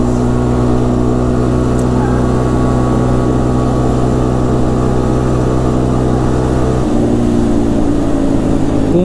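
A Honda 300 Fourtrax 4x4 ATV engine holds full throttle, a loud, steady droning roar that stays close and constant, then shifts in tone near the end.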